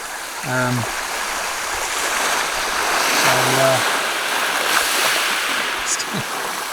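Waves surge and wash up close along a shoreline at high tide, a steady near rush of surf with wind, while someone speaks briefly over it.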